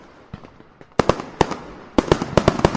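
Firecrackers going off in quick bursts, sharp loud cracks clustered in groups with a few fainter pops at the start, growing denser toward the end, with no voices.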